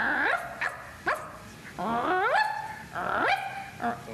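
A dog barks and whimpers in a series of sharp, rising yips and whines, about six bursts spaced through the clip, fairly close and loud.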